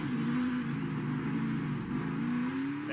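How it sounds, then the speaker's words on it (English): NASCAR race car engine revving as the driver works the clutch on a pit stop launch, a loud continuous close roar with rising and falling pitch. "listen to the work Chase does with the clutch to try to get these rear tires to hook up"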